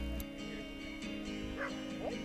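Dog yips, whimpers and barks in short bursts during frisbee training for vaults and stalls, close by over steady background hum, with no talk.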